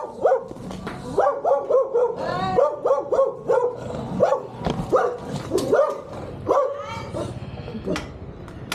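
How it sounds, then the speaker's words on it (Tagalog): A dog at a house in San Pablo, Laguna barks repeatedly in a quick series of loud, close yips and barks, with a few whimpers mixed in. "May aso kami rito na hindi aso namin."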